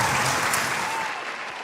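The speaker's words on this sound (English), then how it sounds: "Please give my panel a round of applause." Audience applause for a conference panel at an investment event, a dense, steady burst of clapping that fills the room and begins to thin toward the end.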